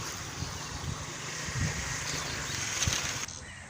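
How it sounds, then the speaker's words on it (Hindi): Fast water rushing through a large concrete-lined canal under a bridge, a steady broad roar mixed with wind buffeting the microphone, continuous and fairly close, with a few low thumps. "पानी कितनी स्पीड नाल जा रहा है"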